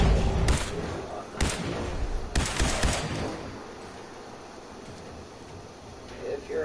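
Gunfire in the game Fallout 4 crackles in three sharp bursts, each a loud crack with a brief rumbling tail, set against a steady, noisy game background.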